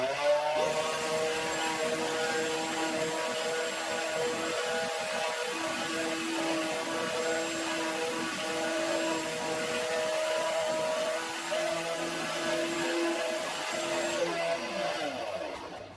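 Surface grinder wheel grinding against a dressing stone in a home workshop: a steady, continuous whirring hum with shifting whine tones, holding level throughout with no talk.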